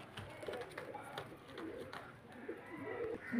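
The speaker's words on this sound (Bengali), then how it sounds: "একদম অরিজিনাল গিরিবাজ পায়রা এসব পায়রাগুলো" Soft Giribaz pigeon coos repeat close by, gentle and low, over a quiet background with faint rustling.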